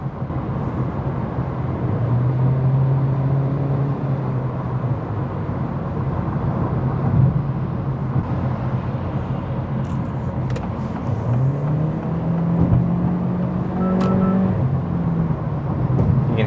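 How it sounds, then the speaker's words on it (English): Turbocharged Acura Integra accelerating on a freeway, a steady road and engine roar with the engine note climbing twice as the turbos spool up, no talk over it. "You can hear the turbos kicking in."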